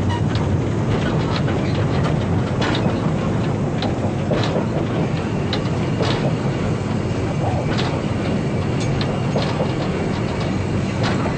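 Steam locomotive Oliver Cromwell runs on rails at a fiftieth-anniversary gala: a loud, continuous rumble heard close up, with regular clickety-clack rail beats and bursts throughout.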